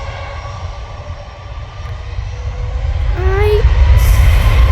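A Ryanair airliner at Manchester Airport fills the air with a loud, steady engine roar and whine that swells as it goes on, with a brief spoken word over it.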